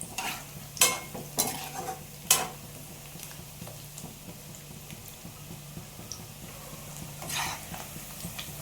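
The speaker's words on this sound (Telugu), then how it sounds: "ముక్కలు చిన్న చిన్న ముక్కలుగా కట్ చేసుకొని బాగా ఎర్రగా వచ్చేలా రోస్ట్ చేయాలి" Small pieces of chicken pakoda roasting in a pan give a faint, steady sizzle, broken early by a few sharp scrapes and clatters of stirring, then settling into a quiet fry with a light hum underneath.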